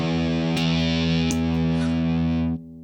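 Epiphone SG 400 electric guitar through a Tantrum distortion pedal and Klon, a single sustained distorted chord ringing loud and alone with two brief pick scrapes, then cut off near the end.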